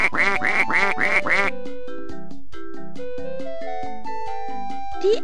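Cartoon duck quacks from the Dora V.Smile video game, a quick run of four loud, evenly spaced quacks followed by a bright electronic melody of plinking notes, with one last short quack at the end.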